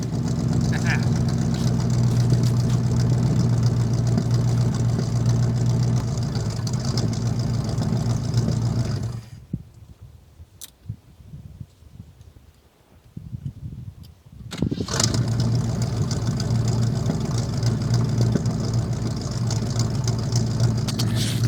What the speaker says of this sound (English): It's crazy to me as garbage as this thing is, how smooth it idles.